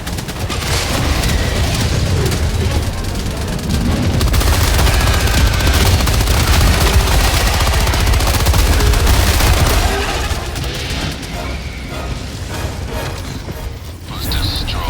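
Automatic sentry turret in a bug-fighting video game on Erata Prime firing loud, sustained bursts of rapid gunfire, dense and continuous up close, easing off near the end.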